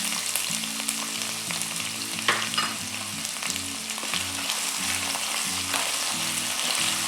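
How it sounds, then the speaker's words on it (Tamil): Spices, fennel and onion frying in hot oil in a pan for tomato rice, a loud continuous sizzle with occasional stirring scrapes, close up and without talk. "எல்லாத்தையும் லேசாக ஃப்ரை பண்ணால் போதும்."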